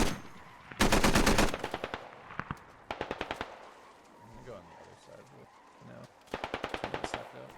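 Bursts of automatic gunfire from the video game Squad, several rapid rattling volleys separated by gaps, loud and close, with a voice talking under and between the shots.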